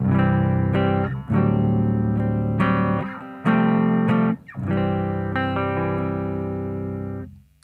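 Clean electric guitar through an amp on the neck humbucker, no pedal, a warm, round tone playing several chord strums and phrases with brief gaps between them.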